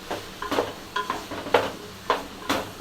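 A spoon stirs chunky eggplant and bottle gourd sautéing in a pan for biryani dalcha, giving rhythmic scraping strokes about every half second over a soft, steady sizzle.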